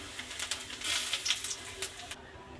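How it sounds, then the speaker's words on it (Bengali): Whole cumin, dried chilies and bay leaf hit hot oil in a kadai, giving a quiet, crackling sizzle with small popping bursts that stops abruptly near the end. "এবার ফোড়নটা আমি দিয়ে দিলাম"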